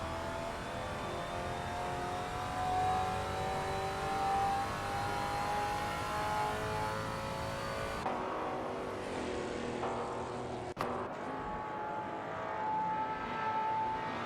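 Race car engines in a Le Mans racing simulator game drone continuously with a rising whine, then the tone shifts abruptly partway through, as though the view or car changes. The sound is moderately loud, with no talking.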